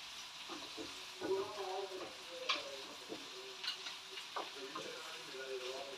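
Vegetables seasoned with black pepper sauté quietly in a pan for a green zucchini pie, a soft sizzle broken by scattered light clicks and scrapes of stirring.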